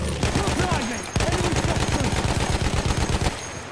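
Sustained automatic fire from an MG15 machine gun in the video game Battlefield 1, a rapid unbroken stream of loud shots with a brief break about a second in, then continuing steadily before cutting off near the end.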